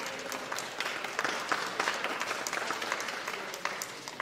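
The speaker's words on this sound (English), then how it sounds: "And I want to give her an applause," A crowd applauding steadily for several seconds, a dense patter of many hands clapping at moderate volume with no talking.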